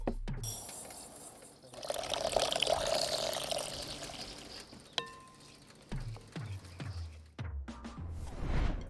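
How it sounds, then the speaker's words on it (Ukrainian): Millet rinsed several times with warm water in a kitchen, with water pouring and splashing into a bowl, soft trickles and drips, and light clinks of a utensil, close and fairly quiet. "В мене це просто тепла вода, і ми його промиємо декілька разів."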